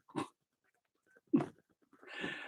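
A dog pants and breathes in a few short, separate bursts at close range, with quiet gaps between them and no talking.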